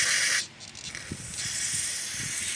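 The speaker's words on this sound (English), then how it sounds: "so I'm just going to spray some more in here" Aerosol carburetor cleaner sprays into and onto the outside of a removed carburetor from a Cub Cadet LT1046 riding mower with a Kohler Courage twin-cylinder engine, a close, bright hiss that cuts off and resumes in short spurts with faint clicks and handling noises.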